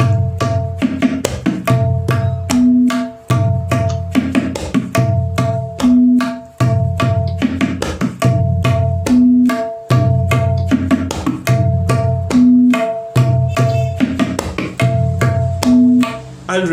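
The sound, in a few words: tabla played fast, Tirakita bol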